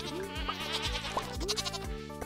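Goats bleating in the farming game Stardew Valley, several short synthetic bleats in a steady alternating rhythm over a looping background music track, close and clear.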